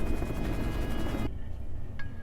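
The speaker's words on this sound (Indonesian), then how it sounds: "Sayangnya, mereka terlambat. Helikopter sudah terlanjur menjauh." A helicopter in the Korean zombie series All of Us Are Dead flies off: a loud, steady rotor and engine roar fills the first half, then cuts abruptly to a much quieter background.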